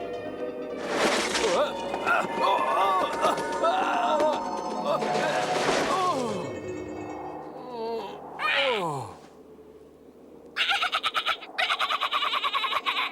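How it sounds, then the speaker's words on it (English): Squawking, cackling bird calls rise and fall in bursts, like a bird laughing, followed by a short rapid chatter near the end. "Some birds will laugh at anything."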